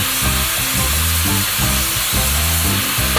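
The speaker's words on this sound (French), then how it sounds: "Maintenant, un petit coup de scie sauteuse." Jigsaw cutting through a kitchen backsplash panel during a worktop installation, a steady buzzing saw drone with a rhythmic chatter running continuously and loud, with no talking.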